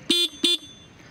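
Two short, loud toots from the horn of a TVS iQube electric scooter, sounding close and evenly spaced, followed by quiet.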